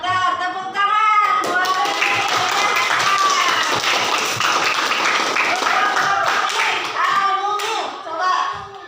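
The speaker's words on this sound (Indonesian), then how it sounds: "Tepuk tangan." Children in an Indonesian school classroom clap together in a rhythmic patterned burst, loud and close, with young voices chanting along over the claps.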